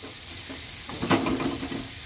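Sliced radishes go into a hot frying pan and are stirred, giving a steady sizzling hiss with a sharp burst as they hit the oil, then scraping stirs under continued frying.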